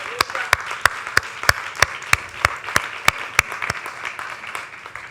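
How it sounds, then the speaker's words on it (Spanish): A church congregation at a worship service claps in slow, evenly spaced sharp beats, about sixteen distinct claps, loud and close over a murmuring background. "Yo te daría un aplauso que rompería esto aquí."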